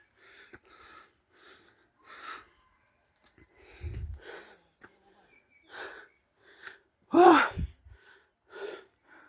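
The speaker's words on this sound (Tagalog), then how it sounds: "At hingal kabayo na guys." Heavy, breathy panting from a hiker climbing a hill near San Pablo in Laguna, coming in uneven gasps close to the microphone with one loud, sharp gasp near the end.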